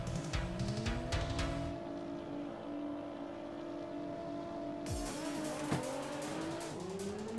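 Nissan GT-R launching off the line with wheel spin in the racing game Assetto Corsa on a mountain touge road, engine revs climbing in rising sweeps with a brief tire squeal, a gear change midway, no voices.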